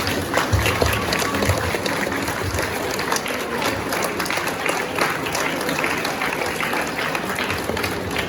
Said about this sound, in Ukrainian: Тому я думаю, ці аплодисменти заслуговують на тебе.